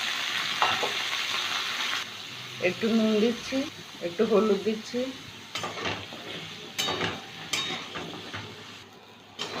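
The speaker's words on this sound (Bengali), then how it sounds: "এঁচোড়টা ভেজে নেব।" Raw, unboiled jackfruit frying in mustard oil sizzles and crackles steadily, with occasional clinks and scrapes of a utensil against the pan, while someone speaks briefly over it.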